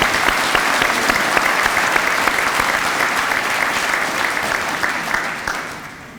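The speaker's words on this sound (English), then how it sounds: "Can you give all of them a round of applause?" Sustained audience applause for the Spark and Eclipse Integrity Award judges at the Better Business Bureau's Eclipse 2021 awards night: dense, steady clapping from a large crowd that holds for about six seconds and tapers at the end.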